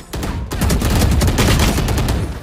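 Bursts of rapid gunfire in a shooter video game, loud and close, firing in a quick dense rattle that fills most of the moment after a brief pause.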